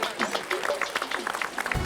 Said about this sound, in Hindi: मैं खुद तालियां बजाता हूँ